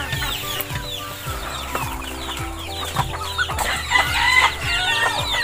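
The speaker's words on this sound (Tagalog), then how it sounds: "Linabas ko na kasi yung maliliit natin na sisiw." Chickens cluck and chicks peep from a cage on a backyard farm, with repeated nearby clucking throughout and a rooster crowing in the background.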